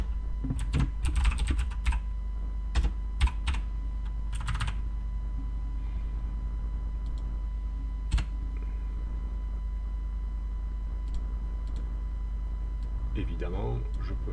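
Keys clatter on a computer keyboard in quick bursts of typing separated by pauses and single taps, close and clear over a low steady hum.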